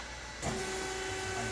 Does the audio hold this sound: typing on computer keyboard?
no